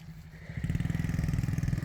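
A 1963 Ford F100 long-bed unibody shop truck engine idles low, then climbs into a louder, steady throttled rumble with rapid rhythmic pulsing, heard close with no talk.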